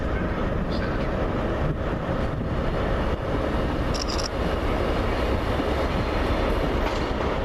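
A train from Cardiff Central bound for Portsmouth Harbour rolls into Bristol Temple Meads station, a continuous loud rumble of wheels on rails with brief metallic squeals and rattles partway through.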